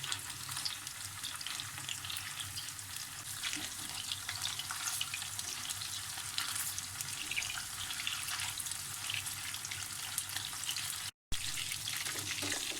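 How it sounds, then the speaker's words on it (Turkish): Vegetable and mashed-potato meatballs fry in a pan after being turned, giving a steady, loud, continuous sizzle that fills the whole stretch with only a brief dropout near the end. "köftelerimin pişen birer yüzlerini çeviriyorum şöyle. Diğer tarafları da kızarsın."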